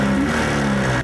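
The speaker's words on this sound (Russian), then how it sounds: "при повороте ручки газа мотор как бы тявкает" Soviet Planeta Sport motorcycle engine revving hard at high rpm, a loud, steady buzzing drone held close for about a second before cutting off abruptly.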